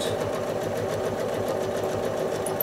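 A sewing machine runs continuously and evenly while stitching a modern square quilt block, a steady close whir with a fast mechanical pulse and no pauses.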